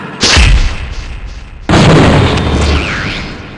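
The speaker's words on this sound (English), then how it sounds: "Using a timed trigger setting, you can make your mule into a grenade launcher." Grenade launcher blasts in the shooter game Gunman Chronicles: two loud, close detonations about one and a half seconds apart, each a sudden crack with a rumbling tail, the second one ringing on longer.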